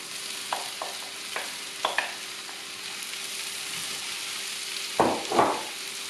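Zucchini stirred into a frying pan with peppers gives a gentle, steady sizzle, marked by light scraping taps. Two louder stirring scrapes come near the end.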